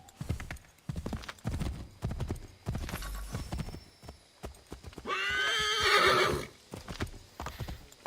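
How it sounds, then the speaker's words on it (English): Horse in Assassin's Creed III, rapid galloping hoofbeats close by, broken by a loud drawn-out neigh midway before the hooves resume. "Go on, horsey."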